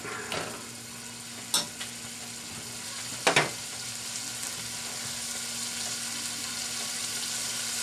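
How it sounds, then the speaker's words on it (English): Ground pork hits a hot pan and sizzles in a soft, steady frying hiss, with a few sharp clinks from a utensil against the pan. No voices. "we're going to turn the heat up just a bit higher. And we're going to get ready to add the ground pork to it."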